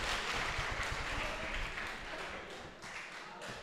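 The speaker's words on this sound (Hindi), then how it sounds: "मैं चाहती हूँ कि ज़ोरदार तालियाँ आपकी तरफ से हो जाएं" Sustained audience applause at an international mushaira poetry gathering in Pune, a dense wash of clapping that stays steady and fairly loud, then thins slightly toward the end.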